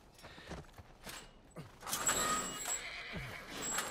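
A horse in the video game The Last of Us Part I gives a few soft snorts and whinnies with muffled hoof movement, set against a quiet outdoor ambience, no speech.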